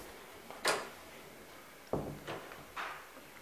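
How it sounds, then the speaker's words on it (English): An indoor door being shut in a home, a single sharp knock-like thud followed by a couple of softer bumps and rattles, fairly quiet against a faint room hum with no one talking. "I'll just close the door."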